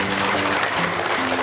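An audience at an Indian training conference claps both hands loudly in a dense, continuous burst, with a voice speaking over the clapping.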